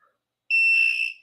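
A single steady electronic beep from a jewelry gemstone tester, sharp and clear, lasting about half a second in an otherwise quiet room.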